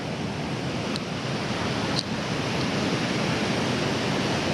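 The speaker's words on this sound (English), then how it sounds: "then you come across this weir" Water pours over a weir beside a path, a steady loud broadband rush close by with no pauses.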